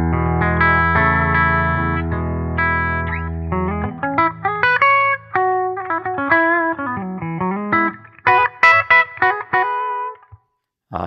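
PRS S2 McCarty 594 Singlecut electric guitar on its bridge humbucker, played clean through a 20-watt amp: sustained chords give way to picked single-note runs and bends, loud and close, with no voices.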